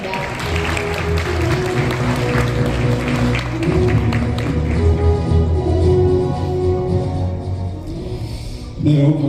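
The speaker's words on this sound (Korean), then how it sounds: "모두 큰 박수로 환영해 주시기 바랍니다." Audience at the opening ceremony of the 2025 TV Chosun Global Leaders Forum applauds to welcome Seoul's mayor, steady clapping blended with background music.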